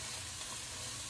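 Chopped onion frying in a pan: a soft, steady sizzle with a constant fine crackle, faint and unbroken, with no voices.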